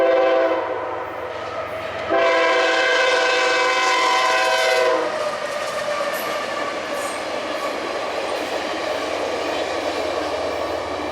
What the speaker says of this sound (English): a northbound geometry train goes by that I so nearly missed